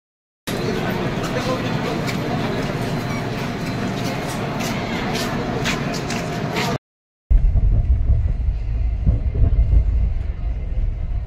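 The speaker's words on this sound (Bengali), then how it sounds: "আলটিমেট ট্রেন এসে পৌঁছালো আসানসোল জাংশন" A train arriving at Asansol Junction, a busy Indian railway station, fills the scene with a steady broadband rumble and crowd babble. After a brief cut, a heavier low roar returns.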